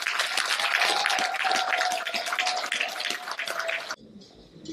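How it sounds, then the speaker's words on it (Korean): A concert audience at an outdoor community music show applauds loudly and steadily for several seconds before a legendary 2000s rock band takes the stage, then the clapping cuts off abruptly. "다시 한번 큰 박수 부탁드리겠습니다"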